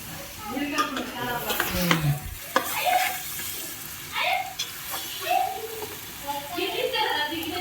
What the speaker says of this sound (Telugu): కలుపుతుంది పీసులు ఇట్లా ఖరాబ్ కాకుండా కలపాలి మెల్లగా.